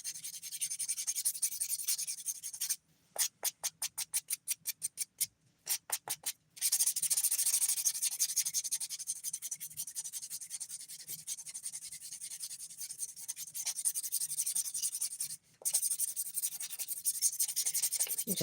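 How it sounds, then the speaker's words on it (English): A nail buffer rubs briskly across fingernails during a dip-powder manicure, close and continuous scratchy friction broken by a run of quick, rhythmic short strokes, with no talk. "Just quickly buffing the nails."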